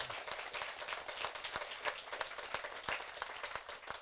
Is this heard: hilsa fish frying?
no